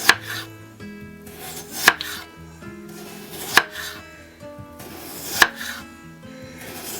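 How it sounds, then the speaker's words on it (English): A knife cuts potatoes into thin slices about an eighth of an inch thick on a board for potatoes dauphinoise. Four sharp, loud chops land about every two seconds, with softer scraping and slicing sounds between them and no talking. "Slice, and you want about 1/8 of an inch thick."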